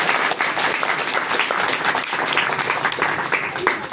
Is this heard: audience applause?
yes